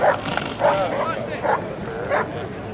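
Sharplaninac dogs at an outdoor dog show give a few short barks and yips in spaced bursts, heard at mid distance beneath someone speaking over a loudspeaker.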